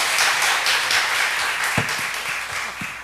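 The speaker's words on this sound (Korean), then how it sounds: "우리 박수로 환영하겠습니다" Applause from a church congregation welcoming a student ministry leader, a dense continuous patter of many hands clapping with a few louder nearby claps standing out.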